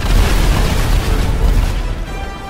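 An explosion in the GTA video game: a deep, loud, sustained rumbling boom that fills the whole clip and eases off slightly near the end, with no talk over it.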